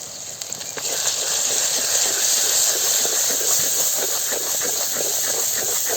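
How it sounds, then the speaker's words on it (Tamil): Masala made from coriander powder and chili ground on a stone fries in oil in a village kitchen, a steady, loud, close hiss of sizzling that swells in the first second and then holds evenly. "மசாலா எல்லாமே எண்ணெயில் நல்லா வதங்கிடுச்சு."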